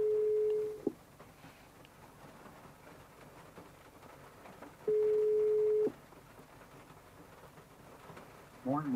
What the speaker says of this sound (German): Rufe Jens Stratmann an. Jens Stratmann wird angerufen.